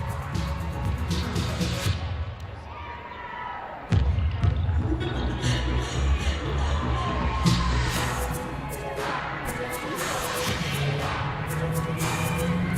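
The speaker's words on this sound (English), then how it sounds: "Teammates in the background there cheering her on." At a women's gymnastics championship, teammates cheer and shout from the background of a busy arena, with crowd noise, sharp bangs of apparatus landings and a commentator talking over it throughout.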